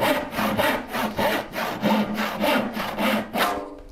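A hand saw cuts through wood for a Shaker Enfield cabinet in steady, close back-and-forth strokes, about eight rasping passes in four seconds, with no voices.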